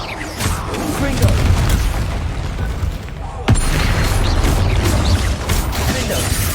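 In Hogwarts Legacy, a Confringo spell lands with a sudden sharp blast that interrupts dense, loud battle rumble, accompanied by other impacts and shouted incantations.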